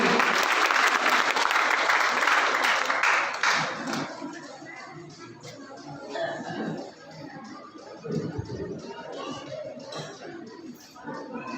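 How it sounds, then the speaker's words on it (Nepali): Loud, dense applause fills a hall at an honour ceremony for a DXN Nepal crown ambassador, staying strong for several seconds before thinning out as voices and scattered clapping carry on. "जोरदार ताली।"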